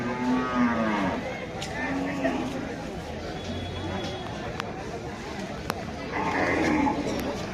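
Several low, drawn-out cow moos at an Eid cattle market in Sreepur, Gazipur, one near the start and more toward the end, over a steady murmur of people chatting in the background.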